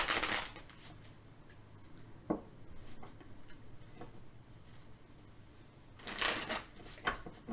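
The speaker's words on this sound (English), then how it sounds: "We'll get a few shuffles and see what's going on for pile 3." Animal-themed Animism tarot deck being shuffled close up in short riffling bursts at the start and near the end, with scattered soft card taps between and quiet pauses, no talking.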